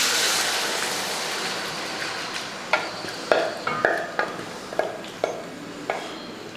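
Raw chicken parts tipped into a pan together with their own juices, followed by a run of distinct scraping and stirring knocks against the pan over a steady background hiss.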